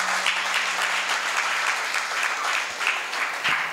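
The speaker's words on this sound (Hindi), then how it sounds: "आप मन से उनके लिए ताली बजाएं।" Applause from the audience at a community gathering, dense continuous clapping from a seated crowd, fairly loud and even for nearly four seconds.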